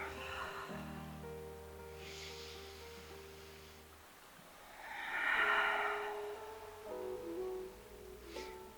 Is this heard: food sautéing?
no